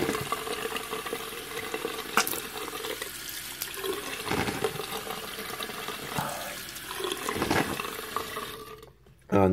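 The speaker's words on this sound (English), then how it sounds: "I take some water, and I wish my mouth out and spit it out." Close sloshing and gurgling of water as a person swishes a mouthful around and spits it out, with running water behind it, ending in a brief near-silence.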